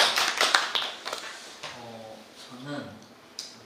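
Audience clapping at a youth community-life panel discussion, a short burst of scattered applause that fades within a couple of seconds into a voice speaking.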